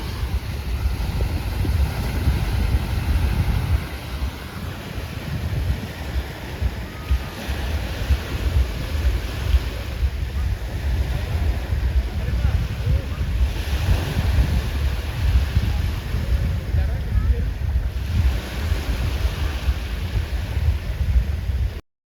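Sea waves roll onto a beach in Dubai at night, a steady broad rush of surf with swelling surges, mixed with wind buffeting the microphone; no one speaks.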